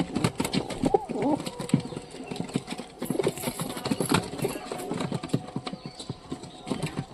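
Pigeons in a loft drink water and peck at feed, producing a scatter of sharp irregular taps and pecks, with some soft cooing and muffled background noise.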